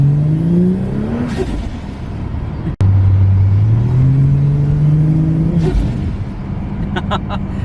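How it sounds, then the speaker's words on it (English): An R33 Skyline accelerating and revving as it drives, with rising engine tones climbing through the gears and whooshing releases between shifts, loud and close throughout. "I'm still undecided on this blow-off valve"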